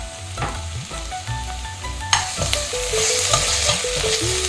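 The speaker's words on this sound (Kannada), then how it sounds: "ನಂತರ ಚೆನ್ನಾಗಿ ಮಿಕ್ಸ್ ಮಾಡಿ ಫ್ರೈ ಮಾಡಬೇಕು." Chicken and ginger garlic paste frying in a pan for chicken pepper dry, loud sizzling with repeated scraping stirs of a spatula, no voices.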